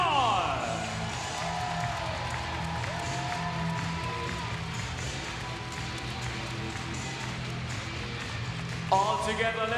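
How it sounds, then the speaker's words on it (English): An arena crowd at a 1. FC Saarbrücken TT versus Alliance Nîmes/Montpellier table tennis Champions League match claps and cheers steadily for a player's introduction, mixed with loud music and an announcer's voice. "Clap your hands for Grégoire Jean."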